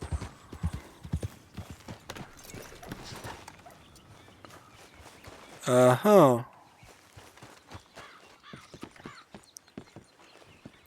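Horse hooves clip-clopping at a walk in the Red Dead Redemption 2 video game, a steady string of close hoof knocks, briefly covered by a loud burst of another sound midway, with a short voiced exclamation.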